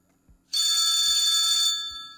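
A phone rings inside the video game R.E.P.O, a bright electronic ringtone of steady stacked tones that starts abruptly and sustains for over a second before fading, loud and close over faint background thumps.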